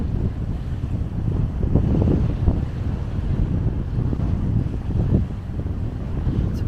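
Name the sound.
strong wind at Clearwater Beach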